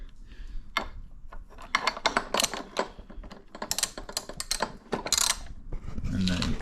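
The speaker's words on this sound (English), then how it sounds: "So I'll get my socket and my wrench." A socket wrench ratchets a 15mm nut off an edger trencher blade, giving close, rapid bursts of clicking in uneven runs with brief pauses between them.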